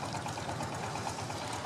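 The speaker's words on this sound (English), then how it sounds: "And other times it's the tourists in long boats." A tourist long boat engine out on a lake, a fairly faint, steady rapid chugging drone with an even mechanical rhythm throughout the short stretch, no talking.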